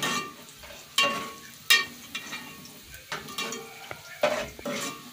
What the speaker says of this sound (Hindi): अभी ये देख चूल्हे पे चढ़ी हुई है और इफ्तारी की तैयारी की जा रही है। ये प्याज भुनी जा रही है इस टाइम।